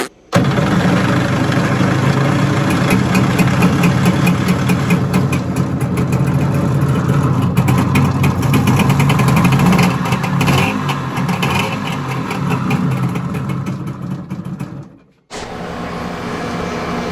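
A 46-year-old engine runs steadily at a loud idle for about fifteen seconds before cutting out abruptly, with a different, quieter engine tone continuing afterward.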